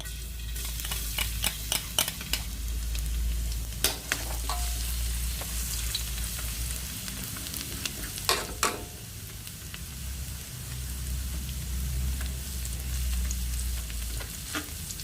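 Garlic sizzles steadily in a hot pan for bihon with corned beef, a continuous frying hiss broken by sharp crackles and scraping stirs, close and fairly loud with no voices.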